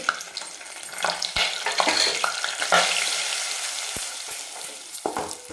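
Spices sizzling loudly in hot oil in a pan on low heat: chilli powder, black masala and turmeric. A steady close crackle is broken by occasional clacks of a stirring spoon.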